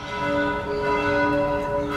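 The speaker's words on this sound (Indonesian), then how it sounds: "Dendang lonceng dari gereja katedral sesekali mengiringi langkah kaki para pengunjung" Church bells ring at Jakarta Cathedral in a steady, sustained peal with rich lingering overtones, fairly loud and filling the whole stretch with no talking.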